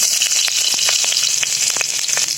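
Bay leaf, fresh chili, chopped onion and garlic frying in a little oil, a constant loud crackling sizzle with sharp pops scattered throughout.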